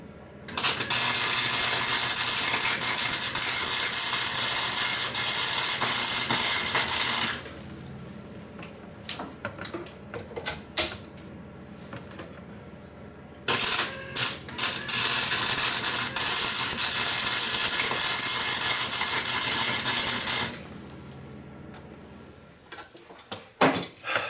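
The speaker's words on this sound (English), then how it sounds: "I'm going to go ahead and weld all the way around it." A homemade muffler for a lawn mower is welded, with two long, loud, steady crackling buzzes of the arc, each about seven seconds, separated by a quieter gap of clicks and metallic knocks, and a few more clicks at the end.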